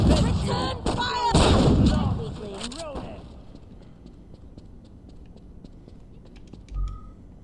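Gunfire from Saints Row 2 bursts over a loud voice during the first three seconds, then fades to sparse, quieter shots and game background noise, with one short thump near the end.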